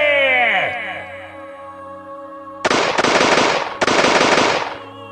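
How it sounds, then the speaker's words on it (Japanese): Two rapid, loud bursts of gunfire from an animated Sengoku-era battle scene with Date Masamune as the target, crackling in quick succession after a quieter opening with a fading tonal sweep. "銃弾が続けざまに5発政宗を撃ち抜く。"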